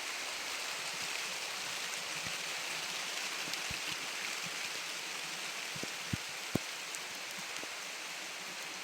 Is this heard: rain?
yes